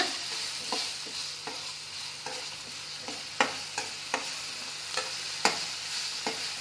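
Capsicum stirred with turmeric powder in a pan for capsicum rice: a low, steady sizzle with a rhythmic series of spatula scrapes and taps, close and fairly quiet, with no voices.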